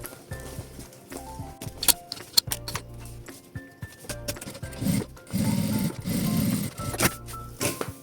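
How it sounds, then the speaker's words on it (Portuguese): A sewing machine topstitches along the edge of a toiletry bag made of plastic and faux leather, running in short stop-start bursts with clicks and handling sounds between them. "passo um pesponto bem na pontinha"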